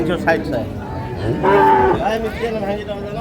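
A dairy cow at a busy rural cattle market gives one loud, drawn-out moo close by, rising over a background of crowd chatter and general market noise.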